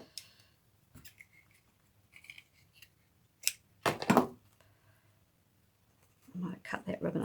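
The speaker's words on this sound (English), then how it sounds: "I might cut that ribbon a little bit short" Scissors cut through ribbon in a few crisp, separate snips with quiet pauses between them, close up, followed by a soft voice near the end.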